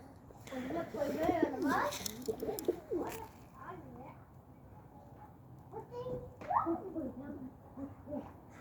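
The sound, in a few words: pigeon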